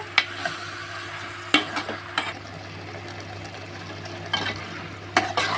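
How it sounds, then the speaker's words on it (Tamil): Brinjal, onion, tomato and ginger garlic paste sauté in a pan for fish curry, a soft steady sizzle broken by several scraping stirs of a spatula at irregular intervals. "இப்போ இந்த கத்திரிக்காய், இந்த வெங்காயம், இந்த தக்காளி, இஞ்சி பூண்டு பேஸ்ட் நல்லா வதங்கட்டும்"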